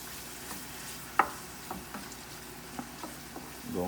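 Onions frying in a pan for a sauce, a soft, steady sizzle with scattered small pops and crackles, fairly quiet and close.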